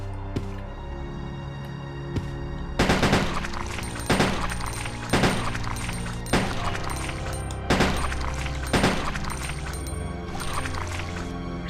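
Sharp gunshots ring out in Resident Evil Code: Veronica, about eight loud, evenly spaced shots over a low ambient drone, with squishy wet impacts between them.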